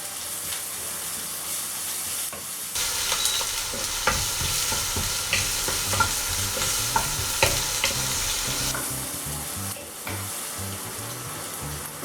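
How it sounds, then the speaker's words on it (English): Finely chopped onions frying and sizzling in a pan with garlic paste, a steady broad hiss with scattered crackles and the scrape of stirring, fairly close and continuous, no talking. "One cup of finely chopped onions. Saute it for a few seconds."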